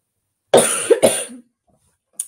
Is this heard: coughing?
yes